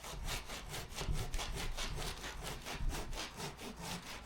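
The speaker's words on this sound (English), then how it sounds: "I'm just going to sort of like cut some off, and got me Japanese saw there." A Japanese pull saw cuts through a length of 4x2 timber, its teeth rasping in steady, evenly spaced strokes, about four per second, close and clear with no talking.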